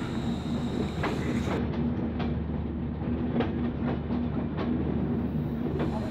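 The Kopotakha Express 715 runs toward Jessore Junction, a steady rolling rumble from inside the train with rhythmic clicking wheel joints every second or so and a low hum, no voices.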